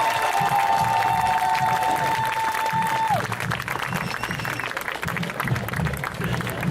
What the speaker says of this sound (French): je veux donc que vous les applaudissiez bien fort